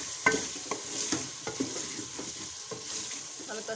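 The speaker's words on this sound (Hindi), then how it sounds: "अब इसकी हल्की थोड़ी सी और फ्राई करते हैं" Potatoes frying in a pan under a steady sizzle, with several sharp scraping and clinking strokes from stirring at irregular intervals, close and moderately loud.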